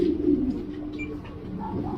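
Racing pigeons coo steadily and low, close by, filling the moment with a soft continuous burbling with no talk over it.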